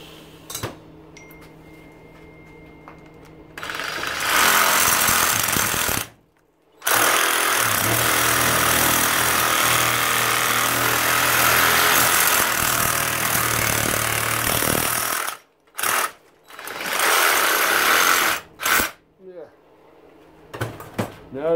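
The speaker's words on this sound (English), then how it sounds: "I think I'm going to cut this one with my Sawzall" A Sawzall reciprocating saw cuts through an arc welder during a teardown. After a quiet start with faint handling noise, a loud, harsh, steady buzzing grind runs for about ten seconds. It halts briefly, then returns in short bursts with clunks.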